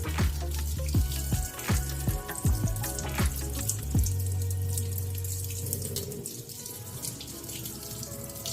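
Hands being rinsed under a running tap during a nursing perineal care demonstration: quick splashing and handling clatter give way to a steady, close stream of water pouring into the sink.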